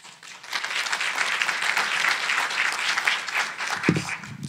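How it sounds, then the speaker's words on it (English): A conference panel audience claps for the moderator, a sustained, fairly loud round of applause that rises quickly and holds steady, with a brief voice starting near the end. "please give a round of applause for our moderator"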